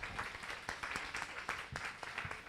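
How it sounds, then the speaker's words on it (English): An audience at a business event gives faint, distant applause, a dense spread of handclaps with a few sharper individual claps standing out briefly. "Let's give them a round of applause."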